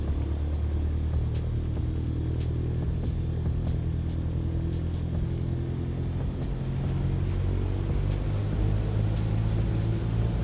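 A Cessna light aircraft engine in Microsoft Flight Simulator 2020 holds a steady low droning rumble as the throttle is eased up for takeoff roll, with faint rhythmic ticking clicks above it.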